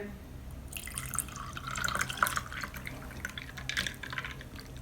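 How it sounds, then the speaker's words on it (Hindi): Milk poured into a second glass while making a simple milkshake, a soft liquid trickle and drip running steadily for several seconds at moderate level, close by with a faint low hum beneath. "और अब हम दूसरे ग्लास में भी दूध जो है वो डालेंगे।"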